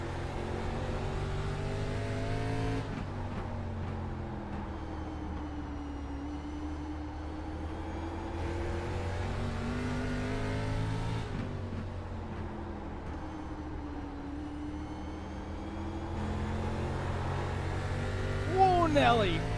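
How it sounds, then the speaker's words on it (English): A race car engine on a lap at South Boston Speedway in a racing sim, its throttle rising and falling in steady surges as the car works through the track, heard under ongoing commentary. "you can hear his throttle is a little bit different than what you would hear on lap number 1"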